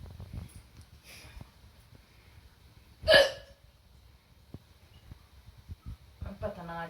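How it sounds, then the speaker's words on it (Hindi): One sharp, loud hiccup stands out from a quiet indoor room, with faint shuffling before it and a brief bit of voice near the end. "पता ना आज क्यों इतनी हिचकी आ रही है"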